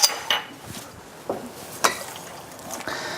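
Metal tongs knock and scrape against a pot of boiling pasta for carbonara, a few scattered clinks and clanks spread out over a low bubbling background, close and moderate.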